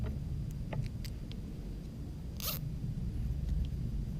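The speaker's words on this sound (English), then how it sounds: "I'm going to use one of these tie wraps to tie the tape together" A zip tie is pulled tight around tape while packing a KTM 690R motorcycle tool kit. One quick ratcheting zip stands out briefly against a steady low background hum, with a few faint clicks around it.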